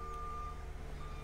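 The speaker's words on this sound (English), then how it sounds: "That's just trucks out there." Trucks outside give steady tonal reversing beeps over a loud low engine rumble, heard from a short distance and without any talk.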